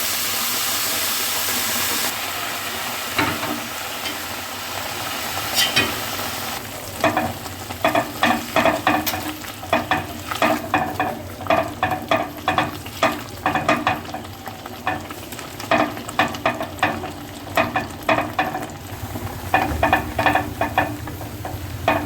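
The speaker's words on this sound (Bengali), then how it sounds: "দুধটা টকবক করে ফুটতে শুরু করেছে।" Milk with grated carrot boiling in a pot, starting as a steady hiss, then dense rapid bubbling and popping that keeps going, close and loud with no talking.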